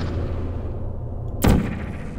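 A portal gun fires once in the video game Portal, a single sharp bright zap breaking over a quiet background hum late in the moment.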